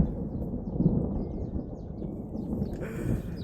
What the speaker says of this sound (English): Oh, that was a cracker. The lightning was just down here somewhere.